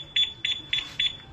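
A Honda Click scooter's two-way alarm chirps shrilly in four short, evenly spaced double bursts, loud and close, with faint background noise between them.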